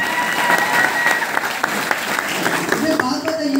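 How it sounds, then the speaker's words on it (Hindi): Loud, dense applause from an audience at a live meeting, steady clapping throughout with voices mixed in over it. "जोरदार ताली डीएक्सएन के लिए"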